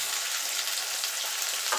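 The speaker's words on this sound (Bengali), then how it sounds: "আমি সবজি ভেজে নিচ্ছি," Flat beans and drumstick vegetable pieces fry in oil for a Bengali shukto, a steady close-up sizzle with soft crackles running evenly throughout and no talking.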